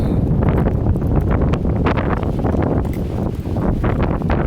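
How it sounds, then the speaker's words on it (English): Strong wind roars and buffets steadily by a river, rumbling close against the microphone with gusty rustling throughout. "Ooh, it's windy."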